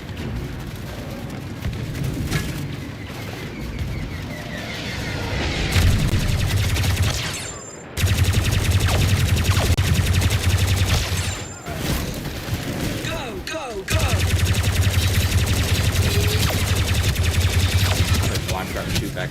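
Blaster and weapon fire in Star Wars Battlefront 2, a dense continuous barrage of shots and booms with brief dropouts, mixed under a player talking over it.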